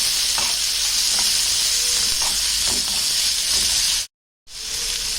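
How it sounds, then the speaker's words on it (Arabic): Bell peppers sautéing in a hot pan with a strong, continuous hissing sizzle and a few light stirring knocks, cutting out briefly to silence before the sizzle resumes. "اديهم برضه تشويحه بالشكل ده كده"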